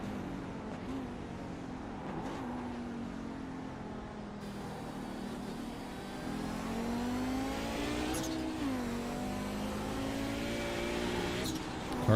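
The engine of an Audi 90 GTO race car in a racing video game, set at Daytona International Speedway, drones steadily with rising and falling revs as cars run around the track, loud and continuous, with no voices.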